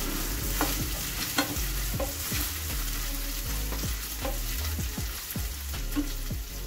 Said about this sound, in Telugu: ఉల్లిపాయలు, అల్లం వెల్లుల్లి పేస్ట్ బాగా వేగిపోయాక